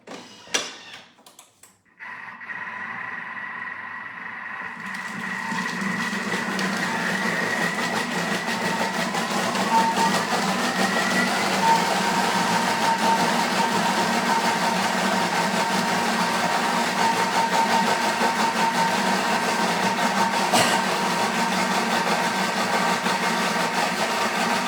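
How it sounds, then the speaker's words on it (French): A Thermomix blends an asparagus preparation with drained gelatin at speed 6, a steady whirring motor hum that starts after a few seconds and holds evenly, with no talking. "on va insérer le couvercle et le gobelet doseur pour mixer 20 secondes,"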